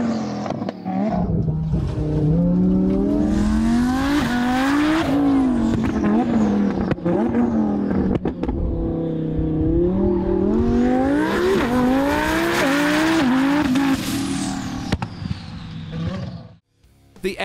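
An Audi R8 V10 supercar engine revs loudly and close, its pitch rising and falling through repeated throttle sweeps before dropping away near the end.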